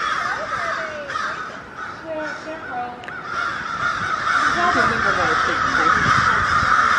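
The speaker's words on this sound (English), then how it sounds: "wonder where all those crows are coming from" Crows caw repeatedly near the American Horror Story house in New Orleans, several harsh calls scattered over a steady outdoor hiss, with people talking quietly underneath.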